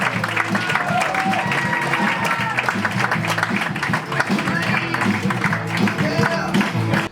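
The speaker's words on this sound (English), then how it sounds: "Let's give a nice big round of applause for the guy who's running the show" Comedy club audience applauding for comedian Nick Bueno, a dense steady wash of clapping and crowd noise with a voice talking over it throughout.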